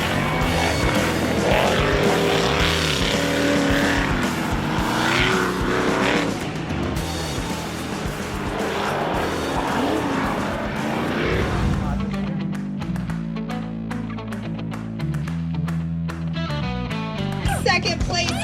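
Race trucks roaring and skidding around a dirt course at Sturgis, loud engines revving with tire squeals, mixed under a commentator's voice and crowd noise throughout.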